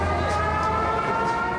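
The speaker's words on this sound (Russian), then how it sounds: "Одновременно завыли 57 сирен." Civil defense sirens wail during a drill in the capital of Kyrgyzstan, with 57 sounding at once. A loud, sustained tone fills the whole stretch without pause.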